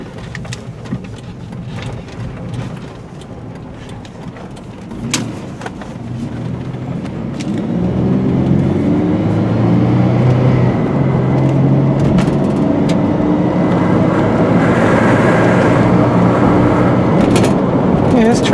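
A 2000 Chevy Blazer LT with a 4.3 engine and automatic transmission pulls away and accelerates, its engine and road noise building steadily from a low rumble to a louder, sustained drone heard from inside the cabin.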